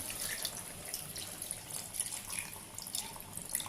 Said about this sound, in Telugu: కొద్దిగా వాటర్ వేసుకున్నాం.